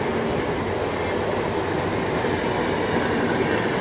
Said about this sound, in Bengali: ট্রেনটা দারুণ চলছে